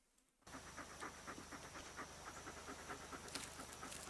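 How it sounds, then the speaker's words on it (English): A dog pants rapidly and rhythmically, close but fairly quiet, over a soft steady hum. "Okay, we have a dog, I'm guessing. Hear the panting."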